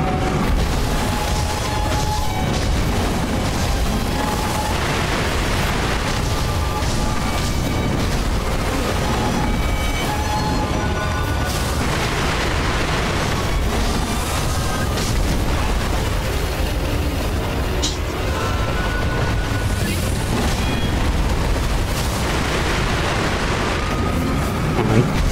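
Fireworks explode repeatedly in the video game Sekiro, a loud, continuous barrage of booms and crackling bursts layered over rumbling game noise, with almost no talking.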